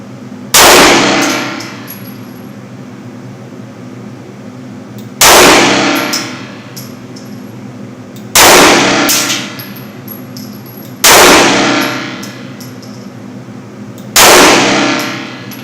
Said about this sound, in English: That's 5 rounds from the Springfield Range Officer Champion